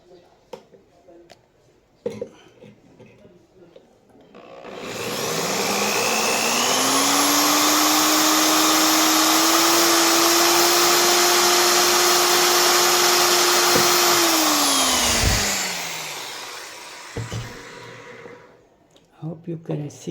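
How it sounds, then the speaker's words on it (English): A drill boring a hole into the housing of an electric fan motor: a loud, steady whine that ramps up, holds for about ten seconds and winds down, with quieter handling clicks before and after. "let's drill some hole in it."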